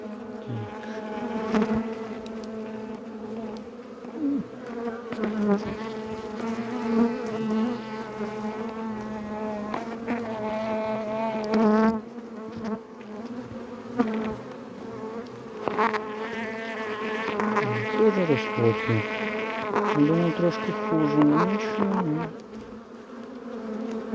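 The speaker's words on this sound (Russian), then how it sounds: "успокойся, жужжишь" Honey bees at an apiary drone in a thick, close swarm, their buzzing rising and falling in pitch as individual insects pass near, with no talking.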